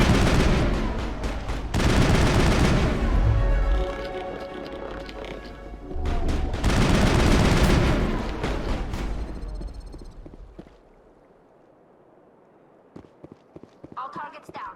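Bursts of gunfire from a Mass Effect firefight, heavy rapid volleys in two loud stretches with a clattering rhythm, then fading to scattered shots over a quieter background; voices are heard over the action.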